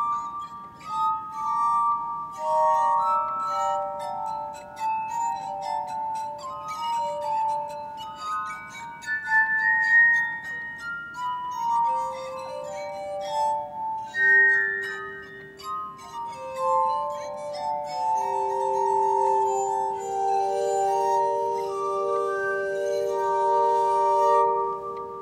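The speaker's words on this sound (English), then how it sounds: "with the harmonica, in a sense, I keep the glass harmonica in the 21st century culture" A glass harmonica plays a slow, sustained melody of pure, ringing tones with overlapping chords, clear and continuous throughout with no talking.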